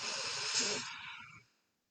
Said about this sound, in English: I'm going to ask you to take a nice deep breath in through your nose to fill up your belly.